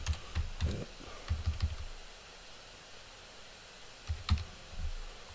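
Password being typed on a computer keyboard, heard as short bursts of crisp key clicks with quiet pauses in between, close and alone against faint room hiss.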